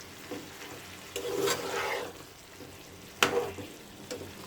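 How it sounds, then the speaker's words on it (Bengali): Tomatoes and green chilies hit a hot pan of partly cooked chicken vegetable egg noodles, giving a couple of bursts of sizzling and stirring with scraping between quieter stretches. "ওই অবস্থাতে আমি দিয়ে দিচ্ছি টমেটো আর কাঁচামরিচ।"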